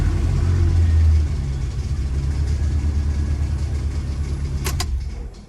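Car engine idling steadily after a head gasket job with MLS gasket and ARP head studs, a continuous low rumble with a faint irregular knock and tick, a loud burst at the start and a few sharp clicks near the end.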